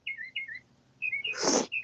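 Two gray birds with a blue stripe down the back chirp outdoors in Tennessee, trading quick, clear two-note tweets in a repeating pattern, close and loud, with one brief breathy noise burst in the middle.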